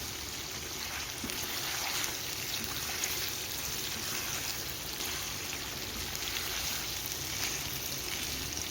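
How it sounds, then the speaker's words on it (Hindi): Garlic sizzling and frying in a pan at home, a steady soft crackling hiss throughout, fairly quiet and continuous without talk. "थोड़ा सा लहसुन भुना जाएगा"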